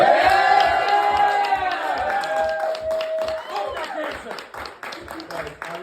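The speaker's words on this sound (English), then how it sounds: "your applause is really appreciated" Crowd at an open mic comedy night bursting into loud applause and cheering, with whoops and shouts over steady clapping that swells at first and then gradually tapers off.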